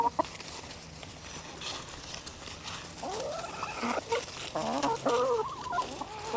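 Chickens cluck close by on a farm, with soft clucks and chatter building into livelier, repeated calls in the second half, without speech.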